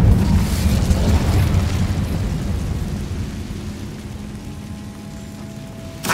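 A fiery Incendio spell erupts in Hogwarts Legacy with a loud roaring whoosh and rumbling boom, fading slowly over several seconds before a fresh burst at the end.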